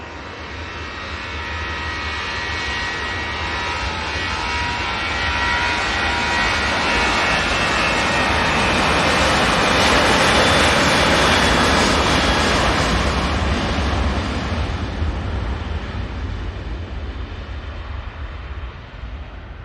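Ryanair jet airliner departing Manchester Airport, a loud roaring jet engine that swells to a peak midway and then slowly fades as it climbs away, heard alone.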